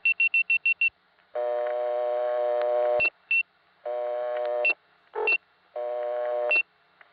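An old Warwick step-by-step telephone exchange answers a dialed 1: a quick train of short beeps, then long buzzing ring tones broken by brief chirps and gaps, clear and close with no talk.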